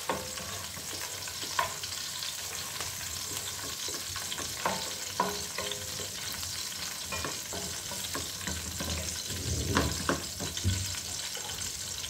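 Garlic, chili and a little parsley sauté in a hot pan for pasta with mantis shrimp, giving a steady close sizzle with occasional utensil scrapes and stirring clatter, no talk.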